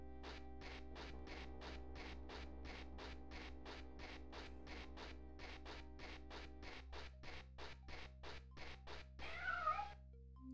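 A cat meows repeatedly in the video game The Elder Scrolls II: Daggerfall, a long, steady train of short, evenly spaced mews over a constant low background hum, ending with a brief, different rustling sound.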